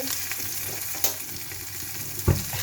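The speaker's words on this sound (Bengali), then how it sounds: "মাছ ভাজা হয়ে গেছে" Bata fish frying in oil on a flat tawa, giving a steady close sizzle with a couple of sharp knocks of a utensil against the pan.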